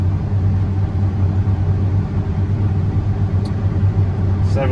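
A John Deere X9 1100 combine harvesting wheat, heard as a heavy, steady low engine drone and mechanical rumble that stays constant and loud throughout, likely from inside the cab.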